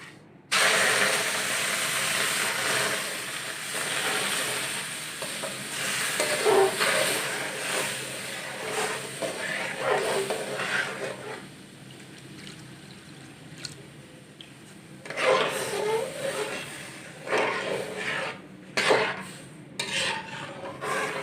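Semolina cooking in milk with crushed almonds is scraped and stirred in a pan, a steady rasping, bubbling scrape that pauses and resumes in irregular bursts, fairly close and loud.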